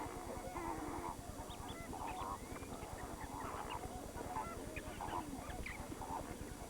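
Flocks of flamingos call at freshwater springs by Lake Nakuru, a dense, continuous honking clamour of many birds layered over each other, steady and loud throughout with no talk.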